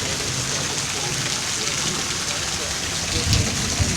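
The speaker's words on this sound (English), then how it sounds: "Still just heavy wind and rain for about the next hour or so" Heavy wind and rain lash down during a tornado warning, a constant loud hiss of downpour with gusty rushing and a few low thumps near the end, close to the listener.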